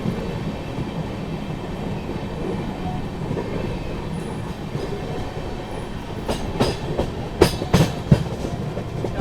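Mahabodhi Express hauled by a WAP-7 electric locomotive, heard from on board as steady rolling rumble and rail noise, with sharp rhythmic clicks and clatters from wheels over track joints building toward the end.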